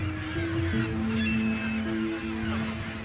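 Young pelicans at Great Salt Lake call in a dense, continuous chorus of honking, goose-like cries, steady and fairly loud with overlapping tones and no pauses.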